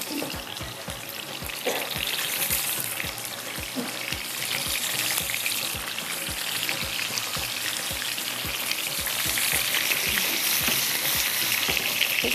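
Fish pieces frying in hot oil for a fish curry, a bright continuous sizzle over a steady low ticking rhythm, growing slightly louder, with no speech.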